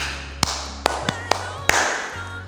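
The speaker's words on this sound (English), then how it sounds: "Clap for yourselves." A class claps for itself, heard as a handful of separate sharp claps spaced unevenly over a low, steady background hum.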